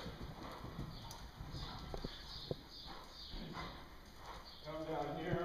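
Horse hooves clip-clop on the ground at a riding clinic, a steady series of moderate thuds under ongoing talk from people nearby, with a louder single knock midway.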